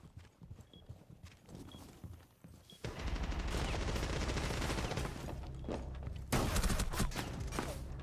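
Rapid bursts of gunfire and a dense, sustained barrage of shots in the tactical shooter Rainbow Six Siege during a ranked match, starting abruptly after a quieter stretch and staying loud with a sharper burst near the end.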